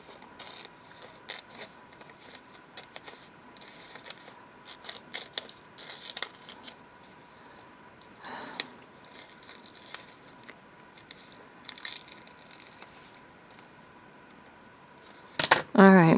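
Scissors snipping paper to cut out a couch shape for a collage: a series of quiet, close, irregular crisp snips and rustles, with a louder paper handling burst at the end.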